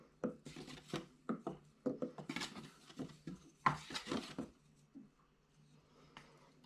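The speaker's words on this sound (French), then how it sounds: "Je vais mélanger grossièrement avec une cuillère en bois." A wooden spoon stirs roughly through a bowl of dough ingredients, making a series of close, irregular scraping and knocking strokes that fade into quiet near the end.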